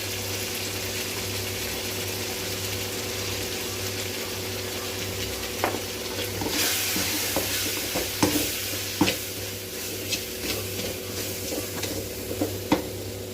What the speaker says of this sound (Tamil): தக்காளி இது வதங்கட்டும்